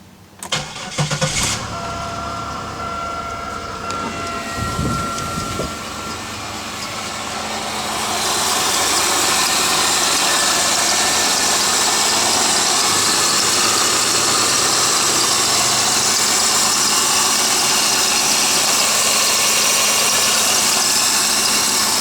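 A 1998 Oldsmobile Intrigue engine cranks and catches after a few seconds, then settles into a steady, loud idle hum that continues to the end.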